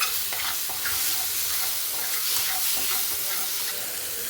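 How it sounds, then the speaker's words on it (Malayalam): Kanthari chicken is stirred quickly in a hot pan, giving a loud, steady hissing sizzle with rhythmic scraping stirs and no voices. "കിണ്ടി ഇതുപോലെ ഇങ്ങനെ ഇട്ട് നല്ല വേഗത്തിൽ കിണ്ടി"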